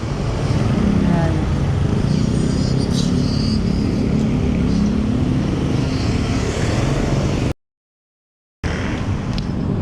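Road traffic noise at a busy intersection near the San Juan River, with cars and motorcycles rumbling continuously nearby, briefly cutting out before resuming, with a voice likely talking over it.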